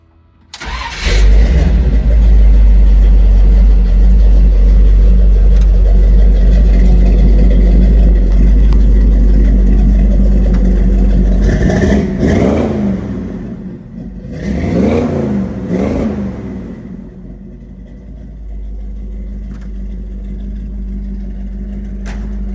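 A 1946 Chevrolet Custom pickup engine cranks and catches, then idles loud and close with a heavy low rumble, followed by two sharp throttle revs that rise and fall before settling back to a steady idle.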